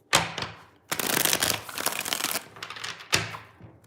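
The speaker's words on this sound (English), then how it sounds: "Let's get 4 shuffles." Tarot cards shuffled by hand in several separate bursts of dense riffling and rustling, loud and close, with short pauses between.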